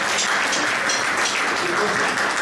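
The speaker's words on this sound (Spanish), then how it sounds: "Fuerte aplauso" Applause at a live outdoor music event, a dense, loud, continuous wash of clapping from a crowd with no gaps.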